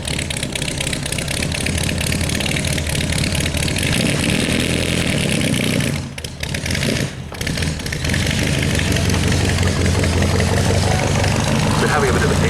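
A restored Lancia car's engine runs steadily throughout a street parade, a loud continuous rumble with a brief dip midway, heard close and mostly alone.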